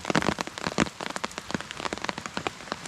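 Rain pours steadily onto a mountaintop in Malaysia during the rainy season, a dense, close patter of countless drops with sharper individual splats scattered throughout, no voices.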